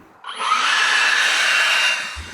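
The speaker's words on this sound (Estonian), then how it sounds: "See siin minu käes on lehepuhur." A leaf blower starts up and runs in a steady, loud, high-pitched whine for about two seconds, then cuts off, close to the microphone with no talk.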